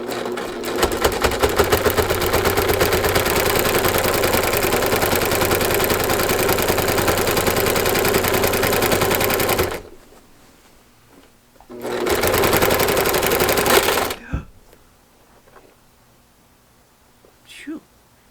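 A sewing machine with a walking foot quilts a baby quilt in a long, loud, steady whirring run, pauses briefly, then runs again for a couple of seconds before stopping, with soft handling noise in the gaps.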